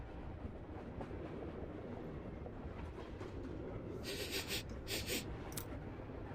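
A game train rolls along steadily through mountain scenery, a low continuous rumble with faint rhythmic rail clatter and a few brighter hissing bursts near the end, no voices.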